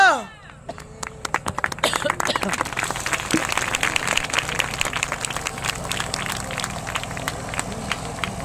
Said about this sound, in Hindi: बहुत सी ताली मारते हैं